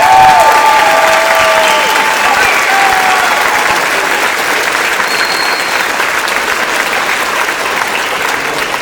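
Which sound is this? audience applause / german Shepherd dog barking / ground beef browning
audience applause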